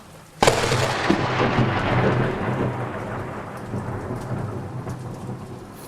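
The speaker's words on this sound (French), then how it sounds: "Soudain, un éclair plus gros que tous les autres s'abat sur un arbre mort." A lightning strike during a storm hits a dead tree, a sharp, loud thunder crack that rolls into a long rumble over steady heavy rain, with no voices.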